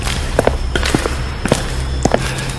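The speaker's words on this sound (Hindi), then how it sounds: "तभी अचानक उसे अंधेरे में किसी के जूतों की चरमराहट सुनाई दी, जैसे कोई उसकी ओर बढ़ रहा हो।" Creaking shoe footsteps approach through a dark, deserted mortuary room, landing as a steady run of close, heavy thuds in paired rhythm against a low background hum.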